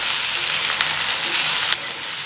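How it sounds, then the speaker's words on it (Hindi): Potatoes and carrot sizzle steadily in a hot pan, a continuous close frying hiss with a couple of brief stirring clicks, no voices. "अभी हम इसको फ्राई करेंगे"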